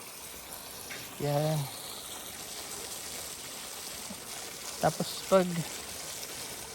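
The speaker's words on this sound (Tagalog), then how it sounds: "Kaya tuloy-tuloy lang ang tubig." Water from a farm fishpond's overflow drainage pours steadily into a river, a constant rushing flow heard alone except for two short bursts of someone talking nearby.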